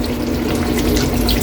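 Water poured or running from a tap into a cooking pot while chicken sauce is being made, a steady close wash of liquid throughout with no talk.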